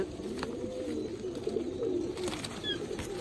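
Low, throaty pigeon coos roll on steadily nearby, with a faint higher chirp near the end.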